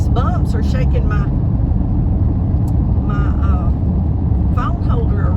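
A car drives over a bumpy, noisy country road in small-town East Texas, a loud steady rumble of tires and road noise filling the cabin, with someone talking over it.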